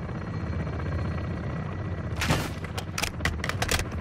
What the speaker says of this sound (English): something's still shooting